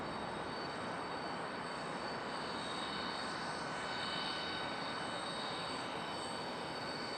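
An aircraft makes a quick pass at Charlotte Douglas airport, a faint, distant, steady roar of engine noise with a smooth broadband rush that holds evenly throughout.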